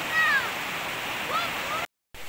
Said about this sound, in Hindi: एक छोटा सा ये झरना यहाँ पे, एक पानी का